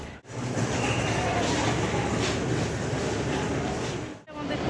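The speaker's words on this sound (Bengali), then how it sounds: "আমাদের ট্রেন ঢুকছে" A train rolls into a station platform, a steady loud rumble of wheels and carriages running continuously, with brief breaks at the start and end.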